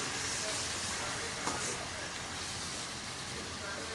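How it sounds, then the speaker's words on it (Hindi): Soybean mince and browned onions fry in a pan with a steady, loud sizzling hiss that holds evenly throughout. "सोयाबीन को इसमें ऐड कर दिया और अच्छी तरह इसको भून लेते हैं।"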